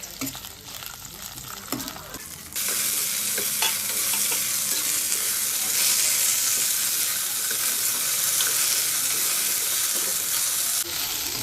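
Ivy gourd sautéing in hot oil, a loud, steady sizzle with stirring scrapes that starts abruptly after a quieter stretch of faint clatter and holds close up to the end.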